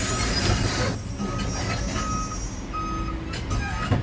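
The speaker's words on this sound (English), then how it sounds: "So that's the big crane." A large crane at a metal scrap yard sounds its reversing alarm, a few spaced single beeps over a continuous loud mechanical rumble and diesel drone, close by without speech.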